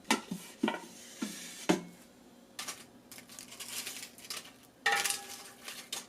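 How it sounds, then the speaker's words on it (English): Hot air fryer lid for an Instant Pot Duo Crisp set down on its pad, several sharp clattering knocks and clicks followed by softer handling rattles and a brighter clack near the end, close and fairly quiet. "Just put the hot air fry lid on the pad"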